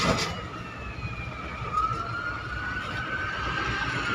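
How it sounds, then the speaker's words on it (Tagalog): An ambulance siren wails steadily in the background over a constant rumble of traffic near the Ortigas C5 flyover, its tone sliding slowly, moderately distant with no talking. "Ayun, may ambulansya dito."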